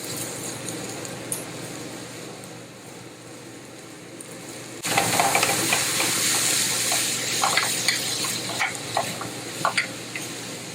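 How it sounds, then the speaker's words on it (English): Ground meat, onions, diced red pepper and garlic hitting a hot pan, a quiet background that jumps into a loud, crackling sizzle with popping spatters and stirring, continuing steadily without speech. "I like to fry my meat and onions and everything together."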